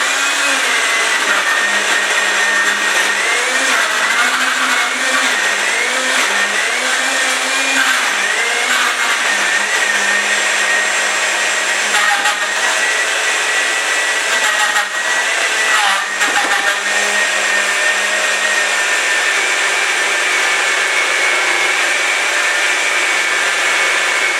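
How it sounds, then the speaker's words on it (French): Blender whirring steadily as it mixes protein sorbet ingredients, a loud continuous motor drone lasting throughout with slight wavering in pitch, close and alone. "Donc je passe au mixeur,"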